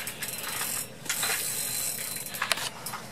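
Fishing reel drag clicking in a rapid ratcheting buzz as a sturgeon pulls line, steady and close with brief louder bursts, over outdoor background noise.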